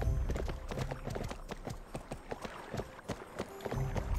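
Horse hooves galloping in Barbie Horse Adventures: Wild Horse Adventures, a quick regular clip-clop rhythm of sharp close hoof hits, steady for the whole stretch over a low game-music bed.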